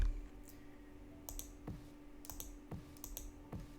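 Sharp, separate mouse-button clicks, about half a dozen spread irregularly, close and fairly quiet over a faint steady hum, no voices.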